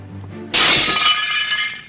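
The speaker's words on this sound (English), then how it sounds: "who broke their computer?" A computer being broken: after a faint low hum, glass shatters suddenly and loudly, then a bright crashing spray of fragments rings out and slowly thins.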